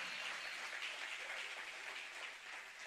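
Church congregation applauding during a Sunday service at Revive, a steady, even wash of many hands clapping, soft and distant, with no voices over it.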